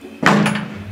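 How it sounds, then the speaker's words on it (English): A door is shut once with a sharp, close thud that rings briefly before fading, alone in a quiet indoor room. "He just shut the door on my face."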